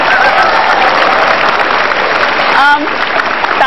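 Applause from a studio audience at a talk show with Jokowi, a continuous roar of clapping with a brief voice cutting in near the end.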